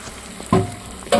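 Vegetable pakoras hiss and crackle as they fry in hot oil in a kadai, with two loud bursts of sizzling as batter hits the oil over a low steady simmer.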